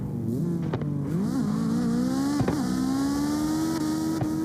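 A car engine revs in a racing video game, with the pitch climbing and dropping through several gear changes. The sound is loud and steady with sharp shift blips and no talking.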